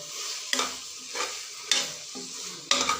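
Meat and rice for biryani are stirred in a pot over a steady sizzle, with a spoon scraping the pot in regular strokes about once a second, close and clear, and no voices.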